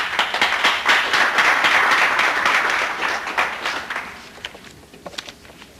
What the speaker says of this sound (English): I want to give them all my applause.